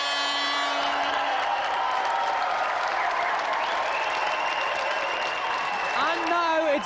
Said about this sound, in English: applause for Matthew Frary and our special guest